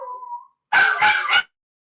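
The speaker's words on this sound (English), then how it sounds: "we're just going to be hearing some of that barking because there are neighbors like walking by" After a short whine, a dog barks three times in quick succession, close and loud, then falls silent.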